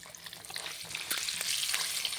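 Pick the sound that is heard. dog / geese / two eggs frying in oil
two eggs frying in oil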